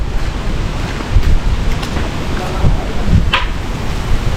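Strong waves wash against a lake shore in gusty wind and rain, a steady broadband rush with heavier surges and wind buffeting the microphone.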